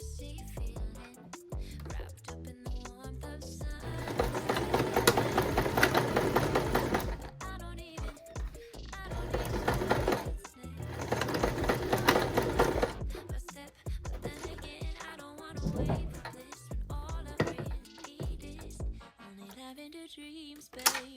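Sewing machine stitching a straight seam on an ID lanyard, running in several loud rapid bursts separated by short pauses and backtacks, with light clicks between runs.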